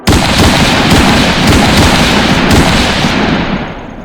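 A dense, loud burst of gunfire crackles continuously for several seconds, then tapers off at the end.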